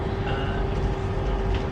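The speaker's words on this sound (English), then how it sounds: "I'm on the train now." Interior of a second-class Interrail train riding out of Prague, a steady low rumble with a constant tonal hum and faint rolling noise, continuous and fairly loud with no talk.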